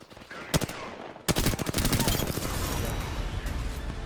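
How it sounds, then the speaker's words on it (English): Automatic gunfire from an Apex Legends match, opening with a couple of sharp isolated shots, then a dense rapid burst of rounds that settles into a steady roar of continuous fire and battle noise. "I'm like shooting at him, but I can't hit him because he's behind the pole."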